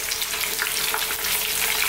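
Keema kofta, spicy Indian minced-meat meatballs, sizzle and crackle steadily as they fry in a pan, a close, continuous hiss with small pops and no talking.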